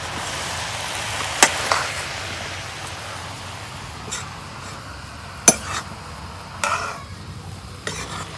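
A curry of bottle gourd leaves, new potatoes and dried fish is sautéed in a pan: a soft, low sizzle broken by scattered sharp scrapes and clinks of a spoon against the pan.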